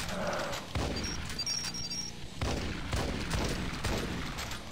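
Combat shotgun blasts in the video game Arcade Paradise, several heavy booming shots spaced about a second apart, loud and close over a low game backdrop.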